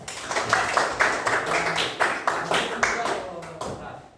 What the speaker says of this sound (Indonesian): Tepuk tangan buat sekarangnya.